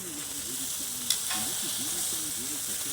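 Bratwurst sizzling on a Blackstone griddle, a steady close hiss with one sharp pop around the middle, no talking.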